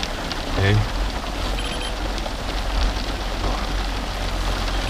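Hail falls steadily outdoors in a wet, dense patter, a loud continuous hiss of pellets striking the ground and surroundings throughout, with a brief low thump early on.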